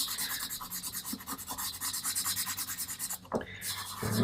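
Pastel pencil rubbed into paper while drawing a tabby cat background, giving a steady, close, rhythmic scratchy rasp with repeated strokes and a short pause near the end, no talking.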